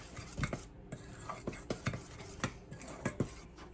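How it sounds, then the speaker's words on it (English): A spoon stirs salt and pepper into seasoned flour for fried chicken, its soft irregular scrapes and clinks against the bowl sounding close and quiet, with no talking. "And then using a spoon, I'm just gonna stir this around, get this good and mixed in together."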